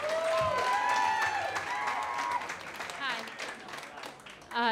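A Moth storytelling audience claps for the next storyteller, applause that fades out over a few seconds beneath the host's voice.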